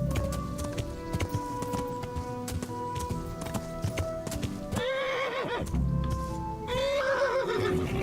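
Runaway roan horse in Kingdom Come Deliverance, hooves clip-clopping steadily with two loud neighs near the end, close and clear.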